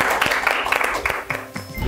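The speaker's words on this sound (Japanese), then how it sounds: "拍手だけお願いします" A studio audience on a business pitch show breaks into brief, uneven applause, individual claps standing out in a short patter.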